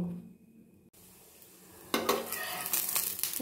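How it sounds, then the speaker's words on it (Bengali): A paratha fries in oil on a hot tawa, a quiet hiss jumping to a louder, steady sizzle partway through, with light scraping of a utensil against the pan. "তেল দিয়ে দিয়েছি, এবার পরোটাটা ভালো করে ভেজে নেব।"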